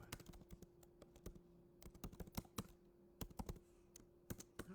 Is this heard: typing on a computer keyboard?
yes